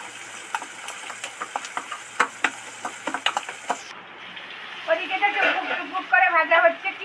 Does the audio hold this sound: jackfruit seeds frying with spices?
yes